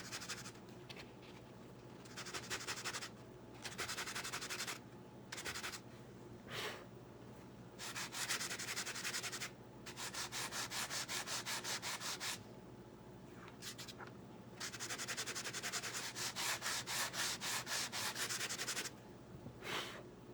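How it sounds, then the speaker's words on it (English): Hand sanding at a black spot on a 3D project in a garage workshop, a close scratchy rubbing in repeated bursts of back-and-forth strokes separated by short pauses, fairly quiet with no talking. "Let's see if we can sand it off."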